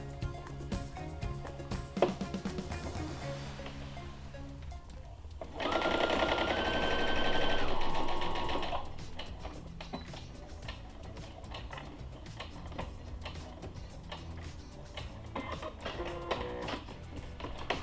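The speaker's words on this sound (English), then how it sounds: "we're just gonna tuck this in here and we're gonna stitch" A sewing machine runs with a steady rapid ticking as it stitches along the edge of a fabric face mask, a louder motorized whir swelling midway, with no speech.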